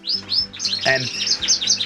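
Canaries chirp and twitter in quick, high, overlapping bursts, close by and fairly loud.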